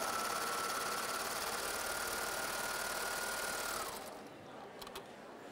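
A Babylock four-thread overlock serger runs steadily while stitching and trimming two layers of fabric, its fast mechanical whir filling the space before slowing and stopping near the end.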